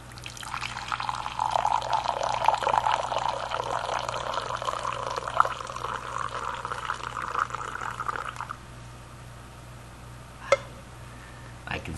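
Tea poured from a height into a cup, a steady close liquid splash running for about eight seconds before stopping, followed by a single sharp clink.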